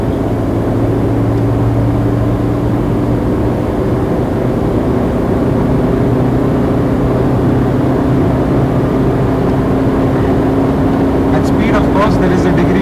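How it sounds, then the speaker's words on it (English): Steady engine drone and wind roar fill the cabin of a Tata Zest on the road, a constant low rumble with a sustained hum throughout; faint higher clicks near the end, no talking. "There is a degree of wind roar inside the cabin. You can also hear the engine, it's getting more vocal."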